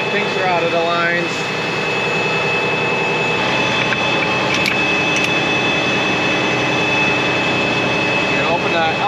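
Fire engine pump engine running at a steady loud drone with a constant high whine, a continuous mechanical rumble close by and brief clicks near the middle.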